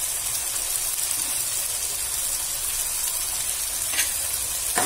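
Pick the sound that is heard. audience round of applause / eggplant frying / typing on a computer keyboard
eggplant frying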